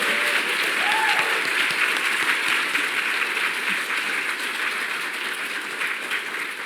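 A convention-hall audience at a PAX Prime 2015 panel gives sustained, dense applause throughout, loud and close, fading slightly toward the end, with a few cheers and a voice briefly audible underneath.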